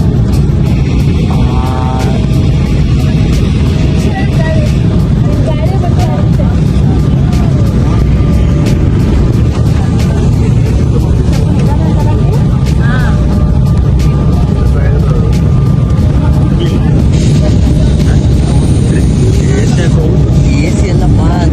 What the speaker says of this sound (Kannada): ಫುಲ್ ಅಲ್ಲಾಡ್ತೈತಿ, ಡ್ಯಾನ್ಸ್ ಮಾಡ್ತೈತಿ ಫ್ಲೈಟ್